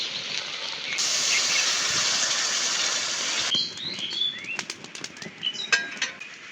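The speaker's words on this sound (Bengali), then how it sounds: "এবার দিয়ে দেবো জল" Water poured into a pan of braised duck meat gives a steady loud hissing rush for a few seconds, then breaks into sputtering, crackling bursts as it meets the hot meat.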